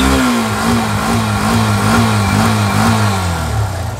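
A used first-model Yamaha FZS motorcycle engine runs close and loud, rising and falling in a few quick revs over a low steady throb, then easing off at the end, with no talking.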